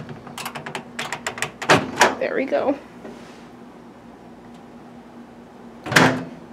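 A hotel room microwave door clunks open and shut with a rattle of movement, a brief voice speaking over it, then a second solid thud of it closing a few seconds later.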